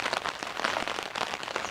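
Rain falling outdoors on a surface, a dense steady patter of drops with continuous hiss, moderately loud and close, without voices.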